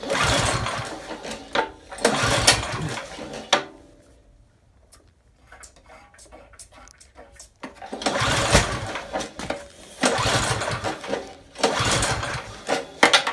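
A snow blower engine is pull-started repeatedly, each rough mechanical rattle of the pull lasting a second or two, separated by a quieter stretch in the middle, loud and close with no talking.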